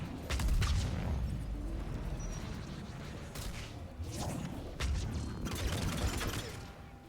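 Rapid Mass Effect 3 gunfire crackles in bursts, mixed with sharp whooshes and a few booming impacts, fairly close and dense over a rumbling background.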